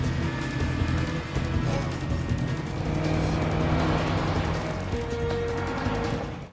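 A car speeds off in a movie chase scene with a loud, sustained engine roar, brief tire squeal and revving that holds close before cutting off abruptly.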